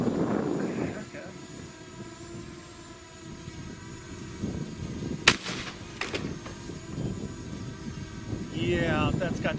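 A rifle fitted with a 5-30x56 first focal plane scope fires a single sharp, loud shot at a cinder block outdoors, standing out against a low, steady rumble.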